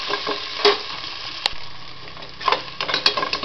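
Onions sauté in a pan with a bright sizzle, interrupted by sharp scraping stirs of a spatula at a few points.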